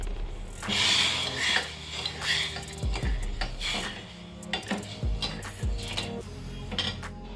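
A spoon scrapes and clinks repeatedly against a pan as sugar and water are stirred over the gas flame until the sugar melts, with irregular metallic taps and scraping over a steady background hiss.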